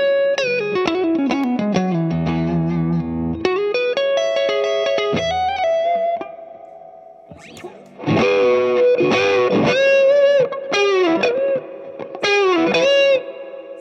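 Electric guitar played with light overdrive and reverb, sustained chords and melodic lines ringing out, a quieter pause mid-way, then strong strummed phrases returning; no talking.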